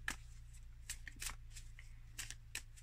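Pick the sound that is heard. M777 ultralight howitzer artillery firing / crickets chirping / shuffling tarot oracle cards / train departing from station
shuffling tarot oracle cards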